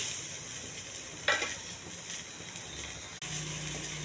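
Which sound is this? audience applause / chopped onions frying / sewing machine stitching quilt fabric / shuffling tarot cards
chopped onions frying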